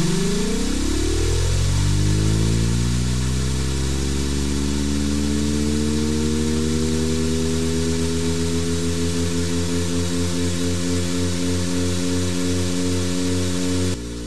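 A simulated steam engine in the Steam Engine Simulator game revs up toward 3500 RPM. Its droning tone climbs quickly over the first few seconds, then settles into a steady, loud hum that holds to the end.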